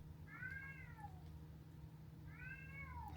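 A domestic cat meows twice, a pair of drawn-out, falling calls about two seconds apart, faint against a low indoor hum.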